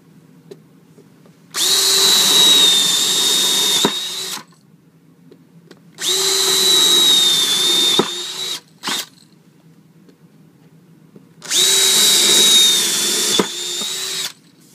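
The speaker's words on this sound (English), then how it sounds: "use the power drill and make the 3 holes" A power drill whines in three long bursts separated by pauses, loud and close, biting into a table to make holes for mounting a clutch motor.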